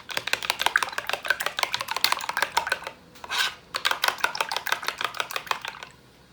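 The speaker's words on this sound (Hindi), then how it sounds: "ये देखिए मैंने इसको अच्छे से फेंट रही हूँ।" Two whole eggs, yolks and whites together, are beaten briskly in a bowl for rasmalai, a close, rapid run of light clicking strokes that pauses briefly midway and then resumes at the same quick rhythm.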